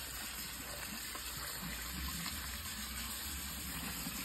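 Dry pinto beans rinsed under a running kitchen tap, a steady faint rush of water with no break and no voices.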